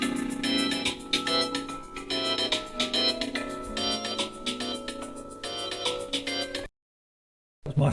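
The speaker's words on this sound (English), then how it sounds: "That's my phone going." A mobile phone ringtone plays a repeating melodic tune for several seconds, fairly loud and close, then cuts off briefly before resuming.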